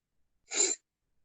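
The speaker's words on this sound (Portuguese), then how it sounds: "Deixa eu só desligar aqui o ar-condicionado, que tá fazendo espirrar de novo." A single short sneeze heard close and alone in a quiet room where air conditioning is running.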